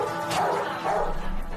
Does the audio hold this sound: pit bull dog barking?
yes